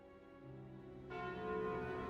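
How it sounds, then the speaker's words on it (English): A single church-style bell tolls in Slay the Spire, a deep ringing strike with a rich sustained tone, joined by a brighter shimmering layer partway through that swells and lingers to the end. "The bell tolls."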